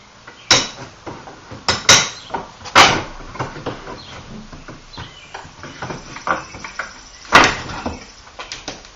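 An entry door is pulled off its hinges: a series of sharp knocks, clanks and wooden thumps at irregular intervals, loud and close, with scraping in between.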